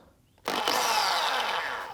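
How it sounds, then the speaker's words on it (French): Peugeot 550 watt electric drill starts up abruptly after a brief silence and runs at a loud, steady whine with a gritty buzzing edge, close by, no voices. "J'ai trouvé une perceuse Peugeot dans les affaires de mon père. Peugeot 550 watts."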